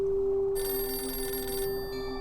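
A telephone bell rings in a steady electronic trill against a quiet background, fairly clear and close, with no speech.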